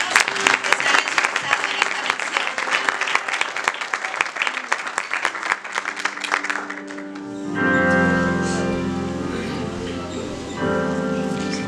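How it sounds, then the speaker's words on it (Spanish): Church congregation at a Sunday service applauding the children, a dense burst of clapping filling the room for several seconds before giving way to sustained musical tones. "por favor, les pido un aplauso para nuestros niños."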